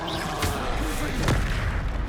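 Fiery explosive bursts from a Confringo spell in the Hogwarts Legacy video game, two sharp booms about a second apart over a dense, continuous battle din.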